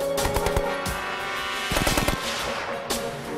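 Loud bursts of rapid machine gun fire from an early machine gun, with thumping recoil, fired in several clustered volleys with brief pauses between them.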